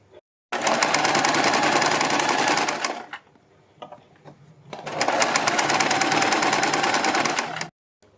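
An electric sewing machine runs a line of stitching along a kurti neckline, with two loud, steady buzzing bursts of about two to three seconds each separated by a brief quieter pause, no talking.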